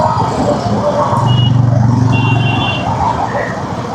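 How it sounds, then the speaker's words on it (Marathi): Busy city road traffic in Dadar, Mumbai, heard from a moving motorbike: a steady, loud rumble of engines close by, with a few short horn or beep tones over it. "दिवसाचे 24 तास ट्रॅफिकच असतं इथे."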